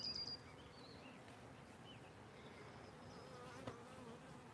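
Honey bees buzz in a continuous faint hum during a hive inspection, with thin higher drones of individual bees passing close by now and then, and no one speaking.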